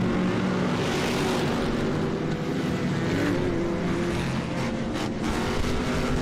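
Off-road race trucks roaring around the Crandon dirt track during a Friday night championship race, a dense, continuous wall of loud engine noise at steady volume for several seconds with no voices.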